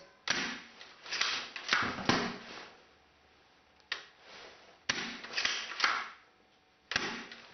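An HFC SPAS-12 airsoft pump shotgun dry-fired without BBs gives several hollow mechanical clacks and thumps, each followed by a short rattling slide, spaced irregularly and close by with no voices.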